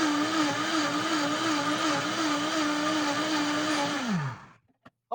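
Vitamix blender running on vegan tomato soup, a steady loud motor whir that holds for about four seconds, then winds down and stops, followed by a brief clatter.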